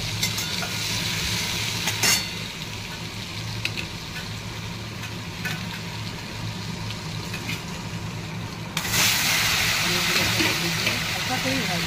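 Paneer frying lightly in white oil and butter, a continuous dense sizzle that swells louder near the end, with someone talking over it.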